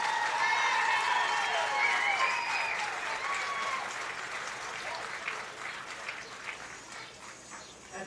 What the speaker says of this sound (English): how about a nice big round of applause for our 8 sectional champions?